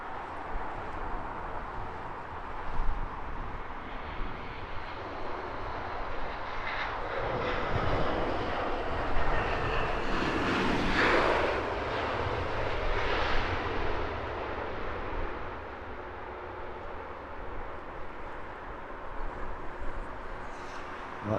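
A British Airways airliner with a red nose passing near Heathrow, a jet roar swelling from low rumble to a loud peak midway and then slowly receding, with no voices over it.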